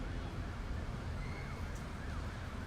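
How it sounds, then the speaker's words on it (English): Emergency vehicle sirens wail continuously in the distance behind a steady low rumble of train noise in the TS2018 train simulator game, set around Stratford on the Great Eastern Main Line. "You can hear the sirens just continuously"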